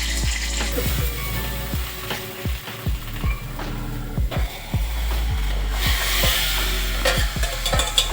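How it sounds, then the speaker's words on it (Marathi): Hot oil sizzles and crackles steadily while tempering spices for dal, a spoon clinking and scraping against the pan in irregular strokes, close by with no talking. "डाळीला फोडणी देऊन घे"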